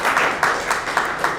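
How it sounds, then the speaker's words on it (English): A small audience at an awards ceremony gives a brief round of applause, moderately loud clapping with a few sharper bursts standing out from the steady patter. "So I think we should give them a little round of applause."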